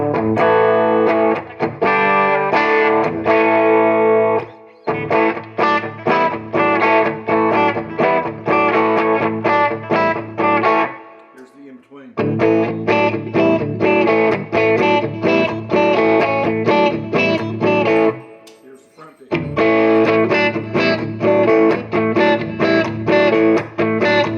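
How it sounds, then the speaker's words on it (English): A semi-hollow ES335-type electric guitar plays lead phrases through a slightly overdriven Vox amp, bright, crunchy sustained notes in loud bursts separated by short pauses. "Some lead tones with just that slightly overdriven Vox sound"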